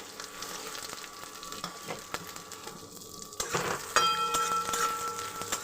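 Chopped onion frying in oil with panch phoron and bay leaf, giving a steady close sizzle with occasional stirring scrapes and clinks, louder toward the end.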